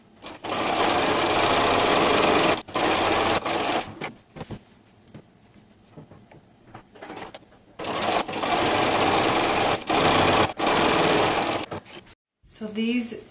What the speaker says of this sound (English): Now I'm going to sew each of these seams with a 1/4 inch seam allowance.